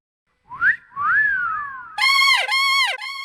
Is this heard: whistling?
yes